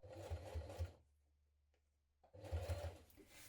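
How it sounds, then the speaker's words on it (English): A sewing machine top-stitches a jean jacket pocket in two short bursts, each a soft, quiet whirr with a rapid needle rhythm. A near-silent pause separates the bursts. "we're going to top stitch from the outside with 2 rows of top stitching"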